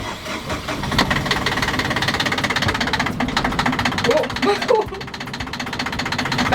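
Sailboat engine on a Southern Ocean voyage cranking a few turns and then settling into a steady knocking idle, close and fairly loud, with a clunk and voices talking over it.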